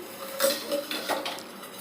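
A village-style spoon clinks against a metal cooking pot several times while aloo bhath is made with oil, giving a few quick, light metallic taps close by.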